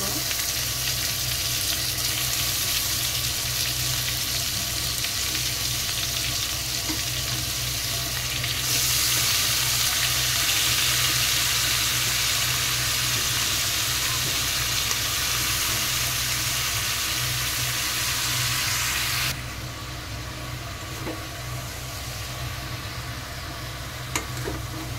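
Chicken frying in a pan with onion masala, a loud, dense, continuous sizzle and hiss that swells in the middle and then eases slightly toward the end.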